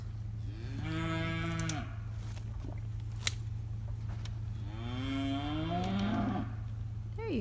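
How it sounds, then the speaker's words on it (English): Two long, loud cow moos nearby, one early and one later, over a steady low hum with a few faint clicks between them. "Hey, you want to go see those cows?"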